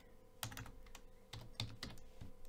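Typing on a computer keyboard while entering a command in PowerShell, a short run of distinct key clicks in two bursts, close and fairly quiet with no talking.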